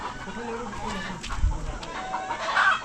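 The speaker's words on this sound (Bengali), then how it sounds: "এই যে মুরগি ডিম পড়ছে" Desi hens on a hillside farm in Saudi Arabia cluck close by while laying eggs, with a few sharp calls rising over someone talking nearby.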